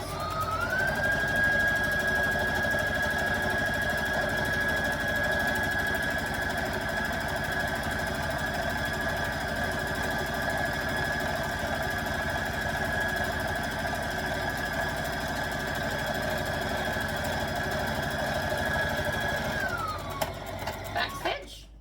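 A sewing machine runs steadily while stitching dress straps, holding one even whirring drone for about twenty seconds before slowing and stopping with a few clicks at the end.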